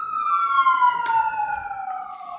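A loud emergency vehicle siren holds a steady, slowly falling wail throughout, fairly close, with faint background noise and no speech.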